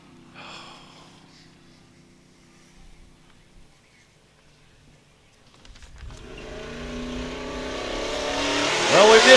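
Off-road race vehicle number 251 of Yellowstone Off-Road Racing launching at the Big Sky 200 in Broadview, Montana: near-quiet at first, then a loud engine roar builds steadily and peaks close by at the end.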